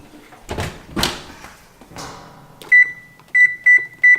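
Rustling and a thud as a tray goes into an oven heated to 350 degrees, followed by a door closing and a string of four sharp electronic beeps from the appliance.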